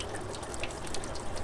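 Tap water runs steadily from a faucet while a toothbrush is rinsed, a continuous soft splashing hiss with no voices over it.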